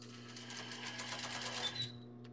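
A sewing machine stitches a long-sleeved robe seam in a rapid, even run of close mechanical clatter over a steady motor hum, then stops abruptly near the end.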